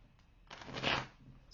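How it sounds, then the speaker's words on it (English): Tarot cards being shuffled in one brief riffling burst that swells and fades, close and fairly soft. "I'm going to shuffle this real good."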